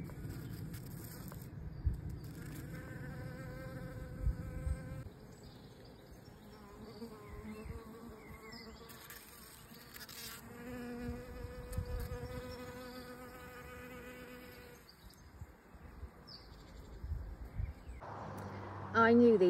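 Bees and flies buzz around poppy flowers in a garden, a droning hum that rises and fades as insects pass close to the microphone, with some brief talk and outdoor background.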